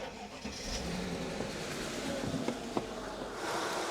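A Mercedes S-Class with a dead battery cranks and fires up on a jump pack in a garage, the engine catching and settling into a steady, fairly loud idle with a few sharp clicks, no voices.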